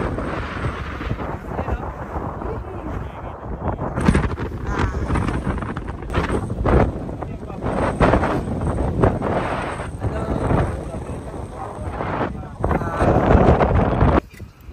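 Strong wind buffeting a microphone outdoors in the United Kingdom, a continuous roaring rumble with gusts, under occasional talk.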